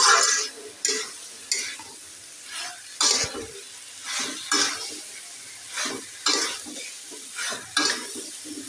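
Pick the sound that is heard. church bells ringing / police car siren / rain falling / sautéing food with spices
sautéing food with spices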